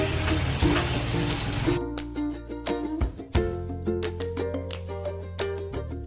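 Water hits a hot wok of Bengali-style Malabar spinach curry with a burst of sizzling hiss, then a wooden spoon scrapes and stirs in repeated sharp clinks and knocks while the frying bubbles on.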